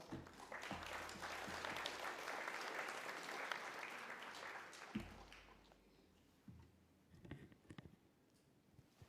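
An event audience bursts into full applause for a speaker, the clapping dense for about five seconds before thinning out into scattered claps and a few stray taps near the end.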